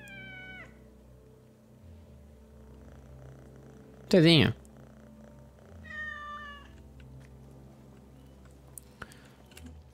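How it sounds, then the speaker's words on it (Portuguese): A cat in the video game Assassin's Creed Mirage gives one loud, drawn-out meow midway through, over quiet game ambience, with softer chirpy cries before and after and a person speaking. "Tem um gato aqui."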